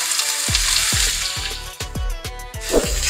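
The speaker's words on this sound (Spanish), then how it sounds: "aquí tengo ya un sartén que está caliente, le vamos a poner aceite, aproximadamente 2 cucharadas, y vamos a poner nuestra cebolla a freír" Onion frying in about two spoonfuls of oil in a hot pan, a loud steady sizzle broken by a series of sharp spatula knocks and scrapes against the pan at a roughly regular rhythm.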